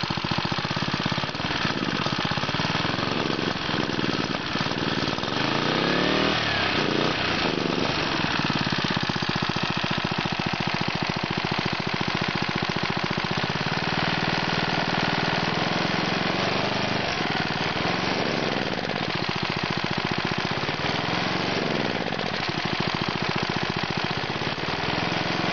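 A small mini bike engine runs continuously, a loud, rough, buzzing mid-pitched idle with rapid chattering pulses and some revving swells, close up and unbroken with no talking.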